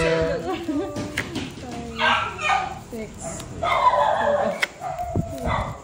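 A dog barks and yips several times amid people talking and laughing nearby, the barks short and overlapping the voices.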